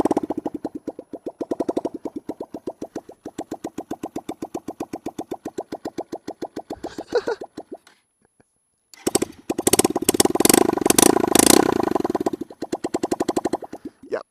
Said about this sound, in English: Okay, so now we have no exhaust on.